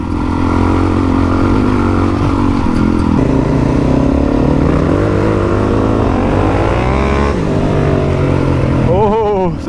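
A DRZ motorcycle engine drones loud and close while riding over rocks, the pitch stepping up and down with throttle changes and gear shifts, with wind rush throughout.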